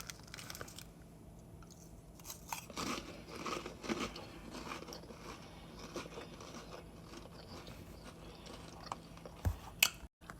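Ritz firecracker crackers being crunched and chewed close to the mic, a quiet series of irregular crisp bites and chewing crackles with no talking.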